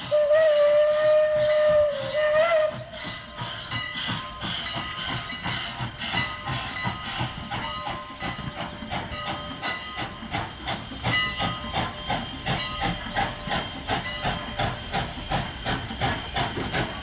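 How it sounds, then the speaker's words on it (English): A Strasburg Rail Road steam locomotive's whistle blows loudly for about two seconds as it approaches the station, then its rhythmic chuffing takes over and keeps a steady, pulsing beat. "start hearing the sound of a distant train whistle"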